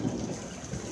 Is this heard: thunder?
yes